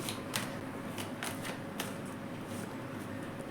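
Tarot cards being drawn from a deck one after another, a steady rustle of card handling with a few sharper flicks and slaps, close by and with no talking.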